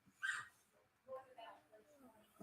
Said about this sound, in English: there's dogs outside trying to get in